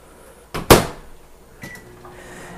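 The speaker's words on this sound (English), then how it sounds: "And we're just gonna throw it in the microwave." A container of growing media is set inside a microwave oven: two quick clunks of the door and tray close together, followed by a softer click and faint rattle in a quiet room.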